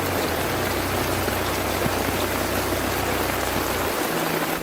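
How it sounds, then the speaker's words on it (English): Heavy storm rain pours down steadily around a tent, a dense hiss of drops with water rushing past and a low hum underneath that cuts out near the end. "The storm outside shows no signs of stopping, the water rushing in small rivers past his tent pegs"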